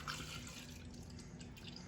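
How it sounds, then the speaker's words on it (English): Black cold brew coffee from Dunkin is poured into a cup, a soft steady liquid trickle with faint dripping, close and quiet, with no talking. "We're just going to pour some in the cup."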